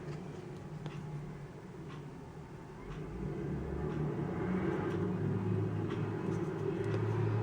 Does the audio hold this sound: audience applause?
no